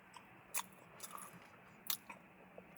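Someone bites into seasoned crinkle fries, with a few soft, close bites and quiet chewing spread across a near-silent moment. The fries are mushy rather than crisp.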